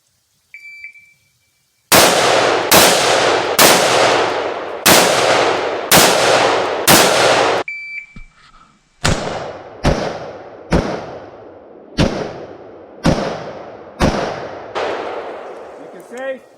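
AR rifle shots fired one after another at targets on a range, two quick strings of sharp, loud cracks with ringing decay, roughly evenly spaced, with a short pause between strings.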